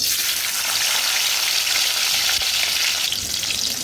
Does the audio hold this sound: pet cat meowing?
no